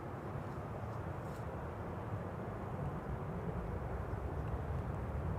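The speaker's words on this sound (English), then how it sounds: "A320neo up next. Sky Express," Sky Express Airbus A320neo arriving at Schiphol, a steady broad engine roar that holds at an even level and swells slightly toward the end, with no voices over it.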